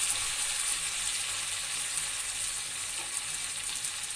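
Vegetables go into a pan of browned onions and fry with a steady, close sizzling hiss that stays even and unbroken, with only faint stirring and no talking.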